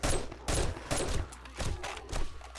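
Rapid string of loud, close gunshots fired at zombies in 7 Days to Die, five or six sharp cracks in quick succession with no talk.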